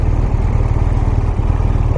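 A BMW R1200RS motorcycle engine runs with a steady, loud, rumbling pulse throughout, a dense low throb with no talk over it.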